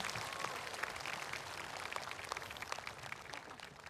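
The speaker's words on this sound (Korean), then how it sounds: "큰 박수로 맞아주시길 바랍니다" Applause from an audience at a Buddhist memorial ceremony, a soft, steady wash of many hands clapping, distant and faint, continuing without a break and with no voices over it.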